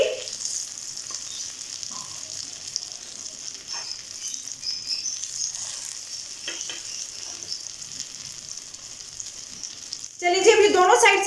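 Chicken and dal shami kababs shallow frying in oil in a pan, a steady close hiss with scattered pops, then a sharper burst of crackling sizzle near the end, no voices.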